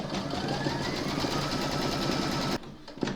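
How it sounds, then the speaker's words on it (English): A home embroidery sewing machine stitches a quilting round on an in-the-hoop fabric project, a close, steady, fast mechanical whirring chatter that stops abruptly near the end. "You're now going to stitch round number 3, and that's going to quilt this area here."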